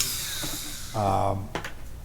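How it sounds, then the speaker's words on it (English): A brief high-pitched whine of a Dremel with a pre-drill bit spins up for about half a second, drilling holes in a blank Stratocaster pickguard, between quieter handling noises. "I'm going to use a pre-drill bit on my Dremel and carefully"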